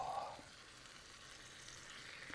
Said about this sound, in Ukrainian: Чуєте, як воно шкварчить.